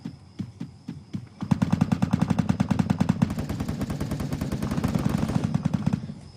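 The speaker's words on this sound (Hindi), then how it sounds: "और पीछे से भी फायरिंग की आवाज़ें आ रही हैं।" Sustained automatic gunfire in a battle royale shooter game, starting with a few separate shots and breaking into long rapid bursts that stay loud and close before cutting off.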